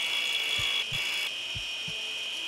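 A saw in Surgeon Simulator 2013 rasps in four short, evenly spaced back-and-forth strokes, close and clear over a steady high-pitched hum.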